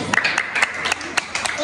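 Children clapping together at a kindergarten graduation party, a series of sharp, fairly close claps in an uneven rhythm with excited voices chanting over them.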